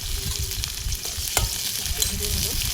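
Nigella seeds, raw onion and chillies frying in hot tempering oil, a dense continuous sizzle with sharp pops and a stirring clatter, close and loud with no talking.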